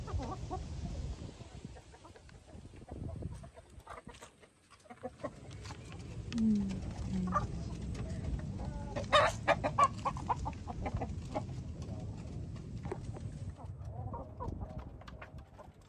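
Chickens cluck steadily at evening feeding time, a busy flock close by with scattered louder calls and a crow-like cry mixed in, continuing throughout with light background noise.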